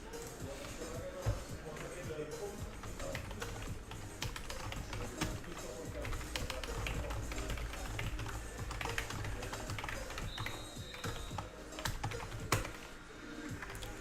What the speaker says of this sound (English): This new keyboard is mixing me up. All the keys are not where they're supposed to be.